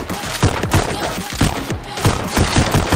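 Rapid bursts of pistol gunfire in the VR game Pistol Whip, repeated sharp shots crackling over a dense, noisy background.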